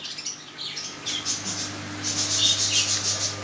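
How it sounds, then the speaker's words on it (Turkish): Budgerigars chirping and squawking in bursts of high, scratchy warbling over a low steady hum, close by and fairly faint, with no talk. "Muhabbet kuşlarımızda elimizde kalan mevcut bunlar."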